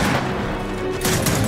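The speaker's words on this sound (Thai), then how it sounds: "จะใช้ปืนกลแทนแล้วกัน โอ้โหยิงล้างพังเลย" Dense, continuous machine gun fire from the video game Gears of War 4 roars for the whole stretch, loud and relentless with a steady low rumble underneath.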